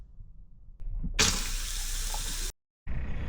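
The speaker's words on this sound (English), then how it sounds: "The water pump is on. It's running." A new water pump on an RV fresh water system runs with water flowing through it, starting as a low hum, then a rushing splash of running water that cuts out abruptly and resumes.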